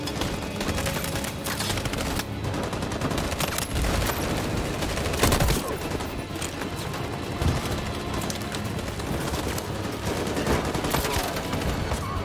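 Gunfire in the video game Detroit: Become Human, continuous bursts of shots and automatic fire over a noisy battle backdrop, with a few louder cracks standing out.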